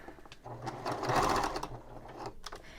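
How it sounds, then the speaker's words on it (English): A sewing machine runs a short burst of top stitching beside a seam on a stiff-fabric braided boho bag, a close, rapid needle chatter swelling and easing over a few seconds. "I decided I wanted to top stitch on either side of the seam."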